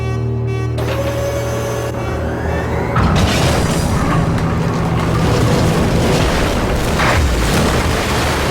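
A missile attack explodes in Resident Evil 3: Nemesis (1999): a steady tonal hum gives way to a loud, sustained rumbling boom that roars on for several seconds, with no voices.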